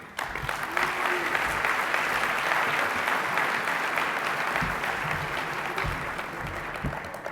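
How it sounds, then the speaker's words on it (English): An audience at an international opening ceremony breaks into sustained applause, a thick even wash of clapping lasting several seconds and tapering slightly at the end. "A hand of applause, please"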